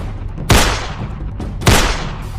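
Two sharp gunshot bursts in a Bangladeshi drama scene, spaced about a second apart, each a loud close crack with a decaying tail over a low background hum.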